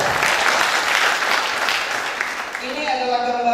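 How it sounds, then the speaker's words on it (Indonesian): A church congregation breaks into loud, dense applause during a sermon, the clapping fading after about two and a half seconds as a voice begins to speak. "Berikan tepuk tangan dulu."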